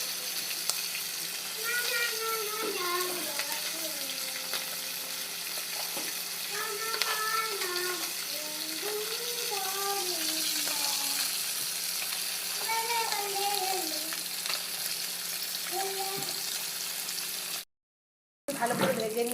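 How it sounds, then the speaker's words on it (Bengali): Pieces of fish fry in hot oil with a dense, continuous crackling sizzle. A voice talks over it now and then, and the sound cuts out for a moment near the end. "ভালো করে ভেজে নিয়েছি"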